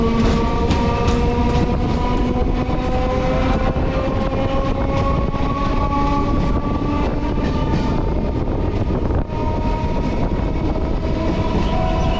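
A passenger train rolls steadily towards Ranaghat on the Bongaon–Krishnanagar line, its loud, continuous rumble filling the carriage with rattling wheels and faint sustained tonal whines throughout.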